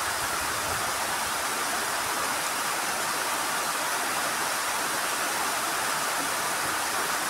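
Steady rain pours down in a continuous, even hiss that stays loud and unbroken from start to finish, with no voices over it.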